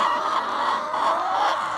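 Chickens on a small farm cluck and murmur in a close, continuous chorus on a hot day, a busy flock heard alone without talk.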